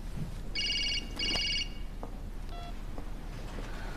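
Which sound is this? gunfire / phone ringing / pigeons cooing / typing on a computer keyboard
phone ringing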